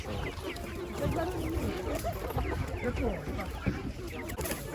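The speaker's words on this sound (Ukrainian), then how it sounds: "Курчата бройлерів." Twenty-day-old broiler chicks cheep and cluck continuously in a dense, busy chorus nearby at a market in Kyiv Oblast, with some faint human talk in the background.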